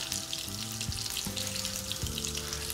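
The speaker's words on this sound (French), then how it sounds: "je vais commencer à faire dorer mes morceaux de lapin" Rabbit pieces sizzle and brown in a hot pan, a steady crackling hiss with soft clinks and low tones in the background, quiet and close.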